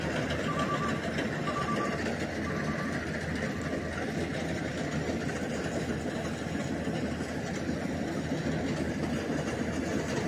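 A rice harvesting machine cuts paddy across a wide rice field, its engine giving a loud, steady drone with a faint intermittent beeping, unbroken for the whole stretch with no talk.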